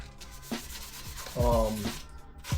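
Rhythmic scratchy rubbing of sandpaper on a plastic scooter panel, a few strokes close up, with one louder, longer pass in the middle.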